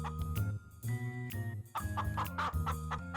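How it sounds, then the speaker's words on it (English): Chickens clucking and squawking close by, busy overlapping calls with a light jingling in the background. "Rapunzel heard clucking sounds."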